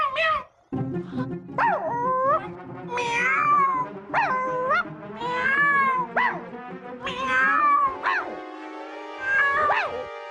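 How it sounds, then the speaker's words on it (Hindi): Repeated drawn-out cat meows rise and fall over a steady droning background with music, loud and continuous, one cry after another with hardly any pause. "हमें ऐसा लगता है कि इस आवाज के पीछे है किसी बिल्ली का हाथ"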